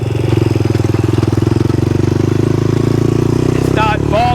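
A Raptor 125 engine pulls in low gear with a steady, rapid low-frequency thrum that stays loud and close, ending with a brief higher whine as the throttle eases; no talking is heard over it.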